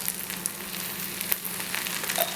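Wheat dosa sizzles in oil on a pan, giving a steady, close hiss with faint crackles and no talking.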